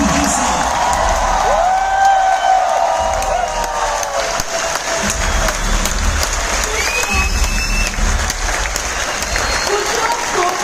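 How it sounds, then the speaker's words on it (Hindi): A large crowd at the Growth Summit India business event applauds to welcome the next speaker. Loud, sustained clapping is mixed with cheers and whoops, and a voice may briefly rise over the crowd. "तो तालियों के साथ स्वागत करते हैं आज के स्पीकर का"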